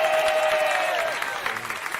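Audience applause and cheering at a live stand-up comedy show, a dense wash of clapping with a few whistles that swells loud and then eases off over two seconds.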